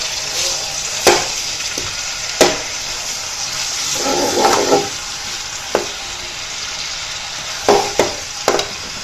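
Crushed onions frying in a pan of hot oil, a steady sizzle broken by sharp scraping clacks of a spoon stirring at irregular intervals, with a louder burst of sizzling midway.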